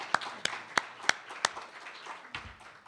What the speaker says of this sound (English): Once again, a big round of applause for the winners.